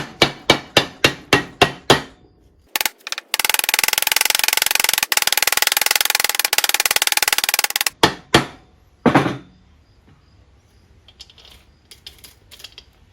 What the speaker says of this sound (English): And then start tapping it into place.